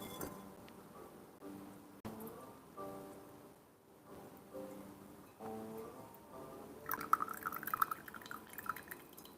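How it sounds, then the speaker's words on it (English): Aged ripe Pu'erh tea poured out during a Chinese tea class, a soft trickling and dripping stream of liquid, with faint background voices and clinks. "Pour tea out."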